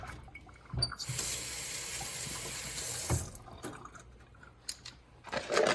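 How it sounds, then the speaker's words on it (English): Tap water pours into a cup used for rinsing paintbrushes while glazing pottery, a bright rushing splash that starts abruptly, runs for a couple of seconds, then gives way to clinks and handling noises. "Fill with water."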